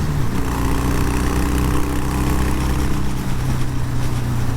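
Harley-Davidson Breakout motorcycle engine running steady and loud, a deep low rumble with a rising tone as it accelerates on the road, no talk over it.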